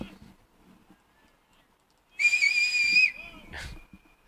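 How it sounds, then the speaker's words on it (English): A referee's whistle signals three-quarter time in an Australian rules football grand final between the River Rats and the Lobstermen: one shrill blast of almost a second, then a shorter chirp, against quiet ground noise. "No sooner do I say that than the whistle goes off,"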